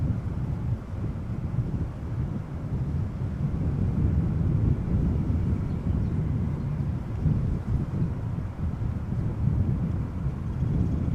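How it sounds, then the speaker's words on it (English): An Embraer 190 arriving at Amsterdam Schiphol on runway 06 gives a low, steady engine rumble mixed with wind buffeting on the microphone, continuous and moderately loud with no voices. "It is an Embraer 190 arriving from Toulouse in France"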